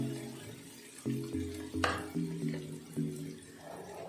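Marinated chicken pieces dropped into a hot pan for a Bangladeshi deshi chicken and potato curry, giving a few sharp sizzling bursts and scraping stirs over steady frying, close and moderately loud.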